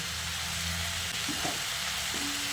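Ridge gourd and potato with ground spices sizzle steadily in a frying pan as they are stirred, a continuous close frying hiss with faint scraping.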